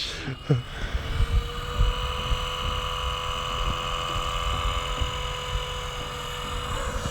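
A steady mechanical whine and hum of a spinning Blade 230 S RC helicopter rotor runs throughout, close and continuous, with a few low thumps early on.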